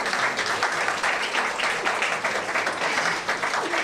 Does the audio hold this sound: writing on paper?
no